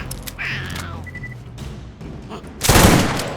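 Gunfire from the video game Carnage Commando, with scattered small game effects leading into a loud, booming shotgun blast near the end that trails off.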